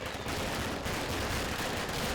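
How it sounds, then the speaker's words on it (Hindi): Firecrackers burst during what may be Diwali night, a dense, continuous rattle of rapid pops and bangs with no pause, fairly loud and heard without any talking. "कितने पटाखे फोड़ रहे हैं, कितना शोर कर रहे हैं यार।"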